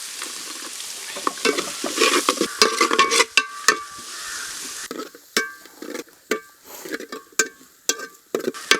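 Chopped onion, minced garlic and ginger frying and being stirred in a pan for a Kerala-style pork dish, a steady sizzle broken by repeated scraping strokes of a spoon, close and clear with no talking.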